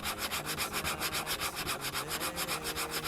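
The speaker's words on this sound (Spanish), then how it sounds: "Toca lijar los peldaños para que acoplen bien con la curvatura del mástil." Wooden folding mast steps for a sailboat are sanded by hand, giving a steady, close rhythmic rasp of abrasive strokes, about four per second, with no voices.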